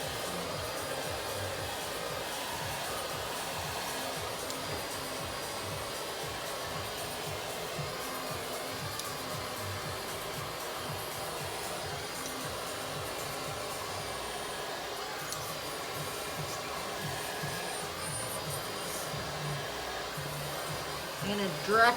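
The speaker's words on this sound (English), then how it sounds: "So my blow dryer's right underneath." A blow dryer runs continuously beneath hair being dried and brushed upward, a steady, even whooshing hum that holds for the whole stretch, fairly quiet and unbroken.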